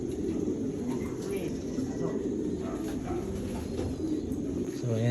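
Racing pigeons back in their loft after a training flight from Lucban, Quezon, cooing softly and repeatedly over a steady low background hum, with occasional faint chirps.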